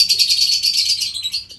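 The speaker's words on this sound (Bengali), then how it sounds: "এরা হচ্ছে মাদ্রাসি পায়রাগুলো" Caged birds in an aviary colony with Madrasi pigeons and lovebirds, giving a dense, fairly loud bright twittering chorus of overlapping chirps that runs continuously and alone.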